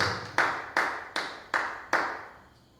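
A church congregation claps in acclaim of Jesus: about six sharp, loud claps in a steady slow rhythm, each ringing out briefly in a reverberant hall, with no talk over them.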